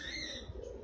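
A single short pigeon coo, close and clear, from a domestic pigeon that has just landed among a flock of young pigeons at a rooftop loft.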